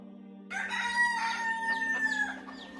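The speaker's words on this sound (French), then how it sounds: "pour la seconde fois, le coq chanta" A rooster crows once, a loud drawn-out call standing alone over a low steady hum.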